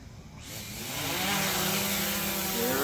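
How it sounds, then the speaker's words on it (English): DJI Mavic 2 Pro drone taking off, its rotors spinning up suddenly into a loud, close, high-pitched buzzing whine that swells and then holds steady, with no talk. "we're going to be taking our maiden flight here with the Mavic 2 Pro"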